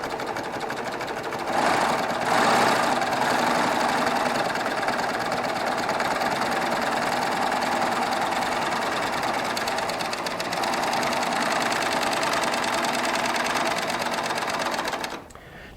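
A Baby Lock Triumph serger stitches with decorative thread, its steady high-speed mechanical whir running continuously and loud for most of the stretch before stopping abruptly at the end.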